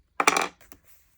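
Scissors snip once through journal paper close by, making a crisp cut. A couple of faint clicks follow as the blades shift.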